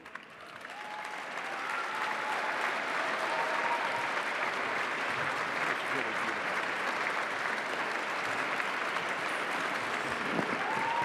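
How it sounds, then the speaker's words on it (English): A gala audience in New York breaks into loud, sustained applause that swells after a couple of seconds and holds steady, with faint voices mixed into the clapping. "Keep that applause going."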